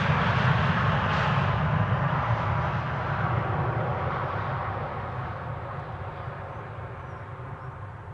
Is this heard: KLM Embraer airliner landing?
yes